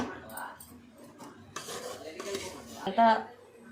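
Metal utensils scrape and clink against plates and a pan as freshly fried food is lifted out and served, a run of close, uneven clatters and scrapes with one sharper knock near the end.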